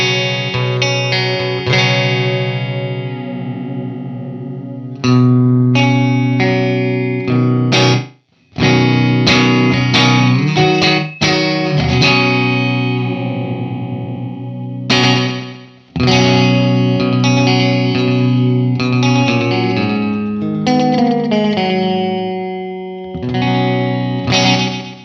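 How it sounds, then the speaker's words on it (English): Electric guitar played through an Old Blood Noise Endeavors Excess V2 pedal with a long delay time, loud, sustained chords and notes trailing into repeating echoes, with a few brief gaps between phrases and no talking. "Now, as we turn that time up, we're going to get a longer delay."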